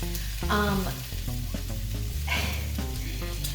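Sweet Vidalia-style onions fry in a pan for soup, giving a steady close sizzle with scattered stirring scrapes and clicks, no voices.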